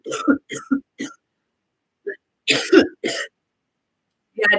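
Several short throaty coughs and throat-clearing bursts come in quick groups, close and fairly loud, separated by brief silences.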